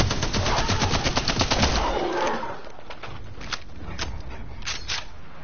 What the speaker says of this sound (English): I'm shooting at the prowlers.